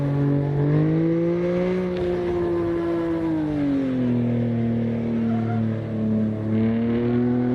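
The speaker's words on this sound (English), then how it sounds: "You can hear it sliding, the tires are skidding already." A race car in the Assetto Corsa driving game slides through a turn, its tires squealing in a steady, loud, wavering tone over a continuous engine drone.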